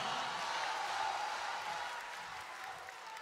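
A studio audience applauds a contestant on a televised singing competition, a steady, fairly distant wash of clapping that fades slightly toward the end.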